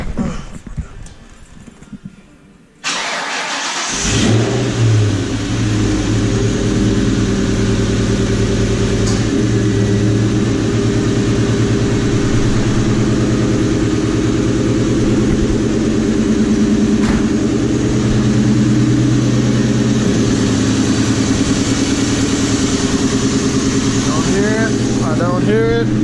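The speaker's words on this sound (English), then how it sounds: "I'm gonna start it up and see if I hear the little pop pop that it's leaking." A car with a leaking exhaust X-pipe cranks and starts after quiet fiddling, then idles loudly and steadily with a deep rumble and faint irregular ticking pops, a voice talking over it at times.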